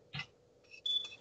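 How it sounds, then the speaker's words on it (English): A smoke detector alarm gives short electronic beeps, a brief burst followed by a thin, piercing chirp, heard nearby in an otherwise quiet room. "Oh, that's my alarm. It just beeps."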